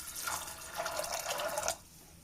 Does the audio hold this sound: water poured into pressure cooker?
yes